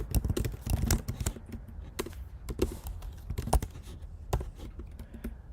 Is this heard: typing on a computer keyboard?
yes